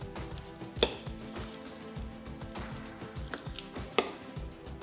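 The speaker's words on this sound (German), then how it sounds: "Alles gut miteinander verrühren, bis die Masse eine gleichmäßige Textur hat." A spoon stirring a thick almond and oat energy ball mixture in a bowl: soft, repeated scraping and squishing, with a couple of sharper knocks against the bowl, and no talk.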